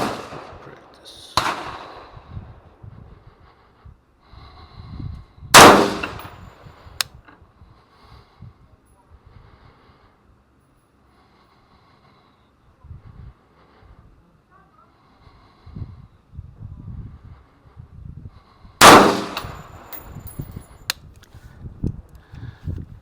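A gas gun fired during shooting practice: a few sharp, loud cracks stand well apart, one early, one near a quarter of the way in and another late, over quiet rustling and low handling noise.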